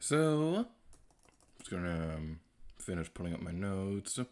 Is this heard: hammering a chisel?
no